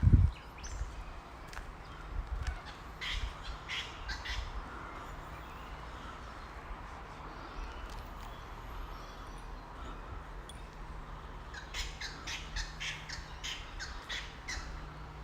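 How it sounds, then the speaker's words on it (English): Birds squawk and caw repeatedly in a quiet, dark forest, harsh calls scattered at a moderate distance over a soft background hush. "Listening to the birds."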